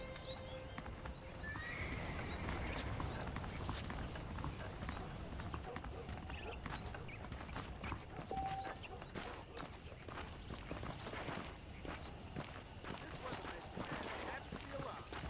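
A horse whinnies and snorts while hooves clip-clop steadily nearby in the video game Red Dead Redemption (2010), with voices talking over the scene.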